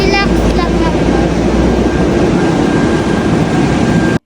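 Interior of a moving MRT metro train in Manila: a loud continuous rumble of wheels on rails with a steady hum and a faint high tone, heard up close throughout.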